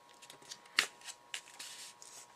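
Paper being folded into a triangle while making a handmade Father's Day card, heard as close, crisp rustles and creases with one sharp crackle followed by a few softer scrapes.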